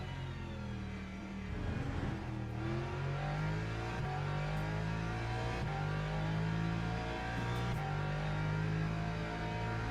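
A Lexus race car in a racing video game on the Le Mans Mulsanne layout, its engine droning loud and steady with rising gear-by-gear pitch sweeps and brief shifts, running continuously without pause.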